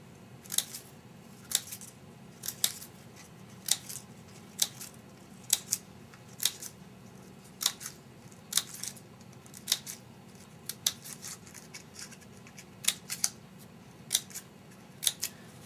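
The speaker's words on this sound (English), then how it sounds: "our regular scissors, and we're going to make fringes." Scissors snip repeatedly through paper, cutting fringes in a quick, irregular rhythm, sharp close-up cuts over a low background hum.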